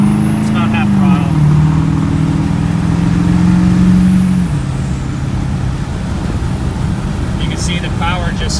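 An OBS truck with a modified 7.3 diesel engine accelerates at half throttle, its engine drone climbing in pitch, dropping at a gear shift, then settling into a steady rumble; someone talks over it.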